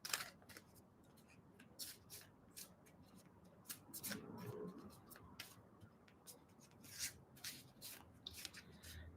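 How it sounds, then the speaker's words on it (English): A deck of tarot cards is shuffled and rubbed up close in a quiet room, producing rapid irregular papery flicks and scratchy riffles that come in bursts throughout. "I just knock out the energy and give it a shuffle."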